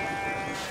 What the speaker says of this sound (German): schwarze gibt es hier auch, schwarze Schafe, pechschwarze Schafe